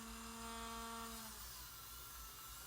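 A Dremel rotary tool grinds a dog's black and white toenails during grooming, a steady high whine that drops in pitch partway through as the bit bears on the nail, close and continuous with no talking.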